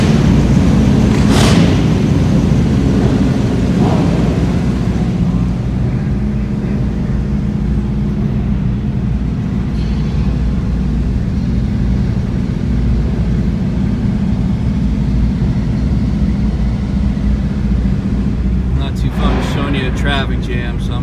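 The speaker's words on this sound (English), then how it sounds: "It's pretty loud right now. All the performance cars are heading out." Loud, steady rumble of performance car engines heading out at a car show, with a brief sharp rev early on and people talking over the noise.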